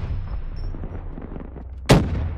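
In a video game firefight, rumbling gunfire and low background noise build to a single sharp, loud grenade blast close by, followed by a rolling low tail.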